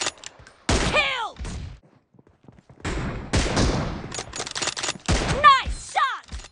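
Gunfire in a team deathmatch shooter video game comes as loud, close bursts of rapid shots, with one burst early, then a short lull, then sustained firing and more bursts, each with a whistling tail.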